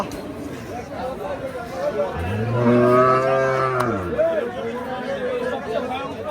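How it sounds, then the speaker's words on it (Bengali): A large cow gives one long, loud moo that swells and fades over a couple of seconds, close by, with people chattering in the background of a busy cattle market. "বিশাল বড় বড় গরু দেখতে পাচ্ছি"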